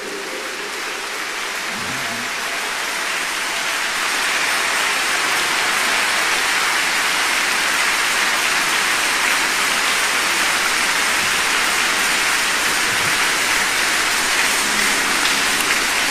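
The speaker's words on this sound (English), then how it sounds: "Now, if we are clapping, let's do it very well." Sustained dense crackling applause from a large church congregation at a Holy Communion service, steady and loud throughout, with no voices rising above it.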